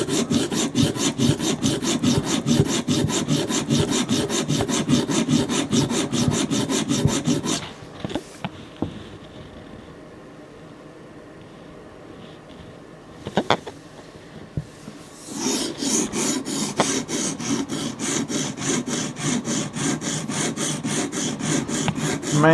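An OTF knife blade being sharpened on a stone, rhythmic rapid scraping strokes close up, pausing midway with a few light clicks before the strokes resume at the same steady pace.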